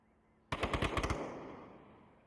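Rapid burst of about eight gunshots from a VR shooter match in Onward, loud and close, cracking in quick succession before a long echoing tail fades out; no talking.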